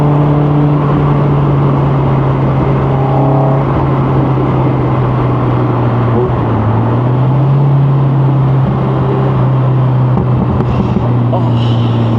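A Westfield SE NA R-T sports car on the road, a steady droning engine note from inside the cabin with slight rises and falls in pitch and wind rush, continuous over the whole stretch.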